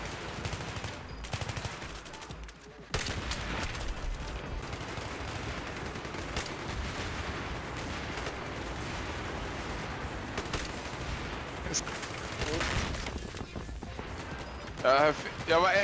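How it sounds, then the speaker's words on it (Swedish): Dense, continuous bursts of rapid gunfire crackle throughout on the Metro map in a video game, with volleys overlapping and a few sharper shots near the end. "Alltså jag hör någon som verkligen bara matar skott någonstans."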